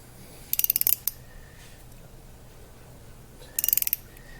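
An angled ratchet clicks through two quick bursts of about six sharp ratcheting clicks each, close up, while servicing a 2018 Ford Edge Sport 2.7L EcoBoost V6 during an oil change, with quiet pauses between.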